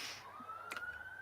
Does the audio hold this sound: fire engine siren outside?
yes